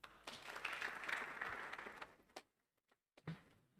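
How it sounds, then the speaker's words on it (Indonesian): A small group claps together at an Indonesian motivational gathering, a faint burst of applause lasting about two seconds before tapering off into near silence, with a few stray claps at the end. "Tepuk tangan dulu."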